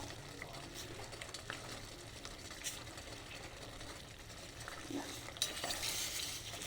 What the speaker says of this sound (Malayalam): ഫ്രീയായി ഇളക്കി കൊടുക്കണം, അല്ലെങ്കിൽ ഈ പഞ്ചസാര കട്ടിയായി പോകും.